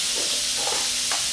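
A halved onion chars on a George Foreman 15-serving indoor/outdoor electric grill, giving a steady close sizzle and hiss with faint crackles and no talk.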